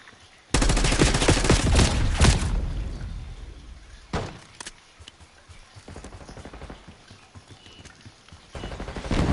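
XM4 assault rifle fire in Black Ops 6 multiplayer: a dense, loud burst of rapid automatic shots for about two seconds, then scattered single cracks and shorter bursts with quieter battle ambience in between, no voices.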